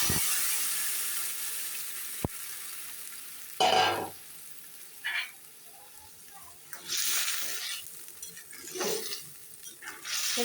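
Potatoes, vegetable stalks and eggplant drop into fried onions in a pan for a fish curry. Sharp sizzling surges rise and fade in several bursts between quieter stretches.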